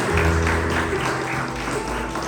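Congregation applauding during a church missions service, a continuous wash of clapping over sustained music or organ tones, fairly loud and steady throughout.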